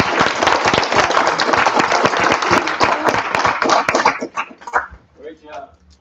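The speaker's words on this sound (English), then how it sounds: "How about a round of applause?" Applause at a town board meeting, a close, fairly loud burst of clapping from a modest group lasting about four seconds, then thinning to a few scattered claps and a murmur of voices.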